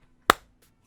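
A single sharp hand clap, made to sync a podcast recording, rings out close and alone in a quiet room, with a quick decay and nothing else around it.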